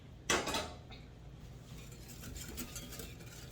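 Sugar, milk and butter stirred in a bowl, with a sharp utensil clink at the start followed by quiet scraping and soft clinks.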